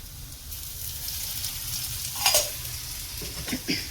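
Cardamom pods, cloves and cinnamon frying in hot oil give a steady close sizzle, broken near the end by a few sharp scrapes and clinks of a spoon against the pan.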